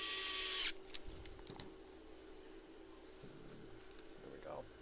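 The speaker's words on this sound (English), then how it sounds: "let me get the rest of these 4 screws in" A power driver runs in one loud, short whir at the very start, setting screws into an Xbox controller under repair, then cuts off to near quiet with faint handling clicks.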